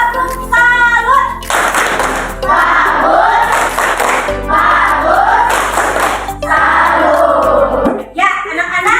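Schoolchildren perform the 'tepuk salut' clapping routine in a classroom: rhythmic group clapping in short patterned bursts interleaved with chanted voices.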